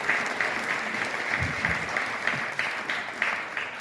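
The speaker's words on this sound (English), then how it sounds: "Give a round of applause for everybody who came out here tonight." An evening audience gives a round of applause after opening remarks at an event: dense, steady clapping with a few scattered louder claps, fairly close and sustained without talk.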